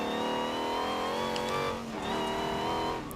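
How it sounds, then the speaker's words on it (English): A supercharged car in the Forza Motorsport 7 racing game gives a loud, steady high whine over a layered engine drone, dipping briefly near the middle before it builds again. "I much prefer the supercharger whine over a turbocharger."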